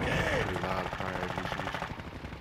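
Rapid automatic gunfire in Call of Duty: Modern Warfare II, loud and continuous with dense repeated bursts filling the whole stretch, a chaotic firefight close to the player.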